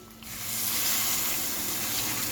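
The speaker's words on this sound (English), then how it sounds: "I'm adding a little more water to the pot now," Water poured into a pot of simmering beef stew, a steady close splashing gush that begins abruptly and runs on without pause, with no talk.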